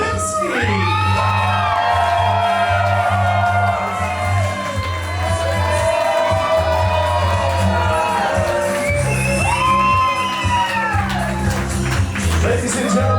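Wedding guests cheer, whoop and shout for the newlyweds at the reception, a loud, dense crowd roar that swells and falls repeatedly with high yells over a steady low music bed.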